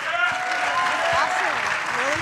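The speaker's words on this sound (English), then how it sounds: "Big round of applause for them." Applause from banquet guests in Palo Alto after a dance performance, continuous clapping at moderate loudness, with a few voices and whoops mixed in.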